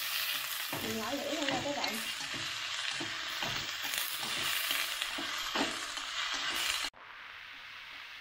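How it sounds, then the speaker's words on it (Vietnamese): Oyster mushrooms tossed into a pan with browned crushed shallots, frying loudly with a dense steady sizzle and repeated spatula stirring scrapes, someone talking briefly, then the sizzle abruptly drops to near silence. "mình cho hết nấm vào như vậy rồi. Mình xào."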